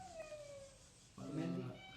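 A cat gives a faint, drawn-out meow that slides downward, then a louder, harsher second meow follows after a short pause, both quiet and close, with no talk over them.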